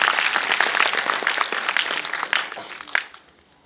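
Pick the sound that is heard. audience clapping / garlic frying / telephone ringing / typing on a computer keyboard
audience clapping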